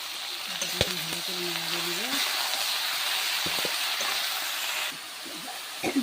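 Fish and bottle gourd curry is stirred in a pan, a steady sizzle and hiss with occasional scraping of the spoon, close by.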